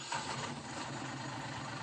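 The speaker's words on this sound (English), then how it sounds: "So we will now turn the engine on." A truck's engine runs at a steady idle, a faint, even low rumble with no other sounds, just after being started during a CDL brake test.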